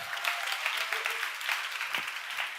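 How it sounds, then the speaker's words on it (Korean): A church congregation claps together during a sermon, a fairly close, even patter of many hands that swells slightly in places, with faint voices underneath. "우리 박수 한번 쳐주시기 바랍니다"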